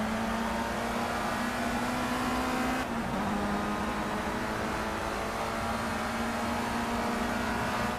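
Race car engine in the racing video game Project CARS, a sustained steady drone of revving motor with a shift in pitch partway through as an opponent is overtaken, continuous and fairly loud with no talking.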